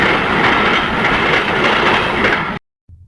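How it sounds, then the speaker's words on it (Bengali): A train passes close by on a railway in Saudi Arabia, a loud, continuous rumble with rhythmic clatter of wheels that cuts off abruptly near the end. "এখন ট্রেন আসতেছে, তাই অপেক্ষা করতেছি।"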